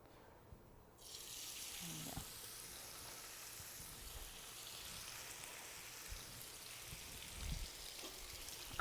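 Pork pieces sizzling and frying in a hot pan, a steady close hiss with occasional pops and a faint clatter, beginning just after a quiet start and continuing without talk.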